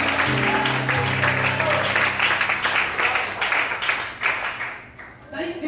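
Steady applause from a large church congregation fills the space, with sustained music or singing underneath; the clapping fades slightly toward the end.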